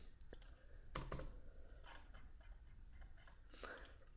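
Typing on a computer keyboard, with quick irregular clusters of soft key clicks close by at low volume and brief pauses between bursts.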